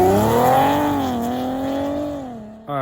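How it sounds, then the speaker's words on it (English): Audi A6 with an 034 Motorsports lower pulley pulls away, its engine note climbing loud and close, easing as it shifts and recedes, then rising again at the very end. "that little clip of the car leaving"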